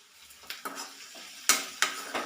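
A spoon scrapes and clatters in a pan of onions sautéing with salt for a curry, the soft sizzle underneath. Several close, distinct stirring strokes come in a loose rhythm over about two seconds.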